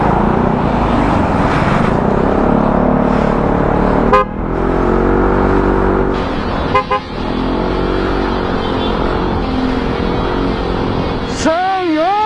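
A Yamaha Mio i 125 scooter fitted with a Villain aftermarket muffler by Zero One Moto runs nearby, its steady engine drone joined by short horn toots, under people talking.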